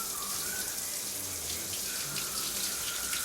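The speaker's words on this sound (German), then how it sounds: "Ich bin zuerst mal unter der Dusche." A shower running, water pouring in a steady, close hiss that does not let up, with no voices.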